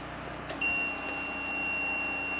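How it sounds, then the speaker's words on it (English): A power inverter gives a short electronic beep once, followed by a sustained high-pitched tone that holds steady over a quiet hum. "Why did it beep again?"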